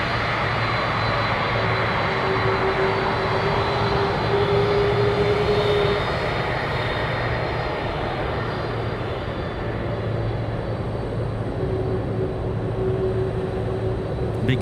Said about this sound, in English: Big 767 today departing to Hong Kong